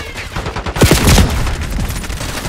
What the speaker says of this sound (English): Sniper shooting